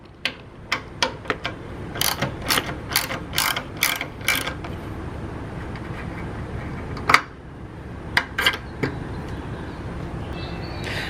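A ratchet turns a 5mm socket to remove the fuel tank bolt on a Yamaha FZ6R motorcycle, giving bursts of rapid metallic clicking in short repeated strokes, close and clear, with pauses between.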